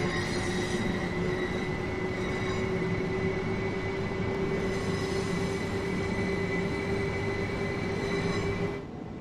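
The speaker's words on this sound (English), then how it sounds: "let's speed up the train now" A GWR train in the Train Sim World 2 video game, played on Xbox Series S, rumbles along the track with a steady loud drone. A sustained high tonal whine runs over it, and the sound drops off near the end.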